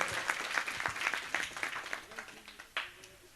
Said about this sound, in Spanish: Dale un fuerte aplauso si quiere aplaudir a Dios Todopoderoso.